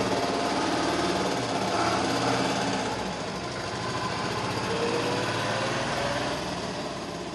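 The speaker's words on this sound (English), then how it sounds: "motor will rotate" A DC motor under PID control hums with a steady, buzzing mechanical whine and rapid chattering pulses, continuous and fairly close throughout.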